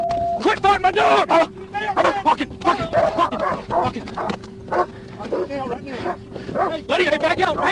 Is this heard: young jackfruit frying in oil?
no